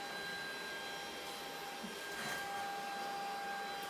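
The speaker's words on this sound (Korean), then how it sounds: "이제 청소기로 선반 아래쪽만 청소하면 돼요." A vacuum cleaner runs steadily while cleaning under a shelf full of potted plants in a side kitchen, a constant whirring drone with a faint high whine and a brief surge midway.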